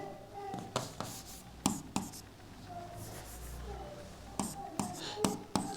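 Marker or chalk strokes on a classroom board as fractions are written out in a math lesson, a quiet scratchy rasp broken by sharp taps, with faint soft voice in between.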